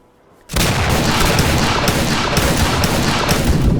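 Gunfire in the Roblox The Wild West video game, a rifle shooting to suppress. After a brief near-silence, loud shots burst in abruptly and continue as a dense, sustained barrage to the end.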